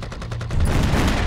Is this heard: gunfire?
yes